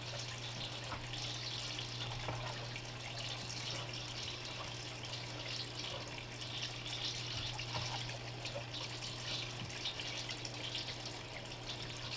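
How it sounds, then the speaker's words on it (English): Fresh water runs steadily through a gold prospecting sluice being fed paydirt, a continuous close rushing trickle with a low steady hum underneath and no talking. "We're gonna fire up this sluice,"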